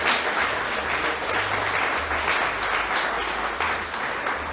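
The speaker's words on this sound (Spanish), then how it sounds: "Dele un aplauso al Rey." A church congregation applauds during a sermon, a loud sustained roar of many hands clapping, backed by low sustained organ or keyboard tones, with no talking.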